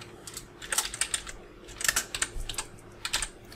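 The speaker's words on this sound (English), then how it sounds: "You can just type in your text right here." Quick bursts of clicks from typing text on a computer keyboard, close and fairly quiet, in two or three short runs with brief pauses between them. There is no talk.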